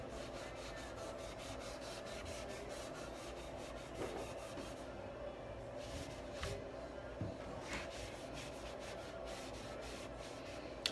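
Steady soft rubbing of a cloth or brush working Dixie Belle Grunge Gray wax into a wooden table's raised surfaces, a continuous close, quiet scrubbing texture with faint irregular strokes.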